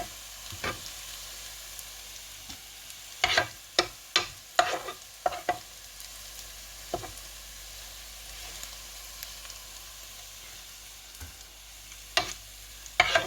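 Hot oil sizzles and crackles steadily in a pan as spices and dried chillies are tempered, with a cluster of sharp pops and spits partway through and a few more near the end.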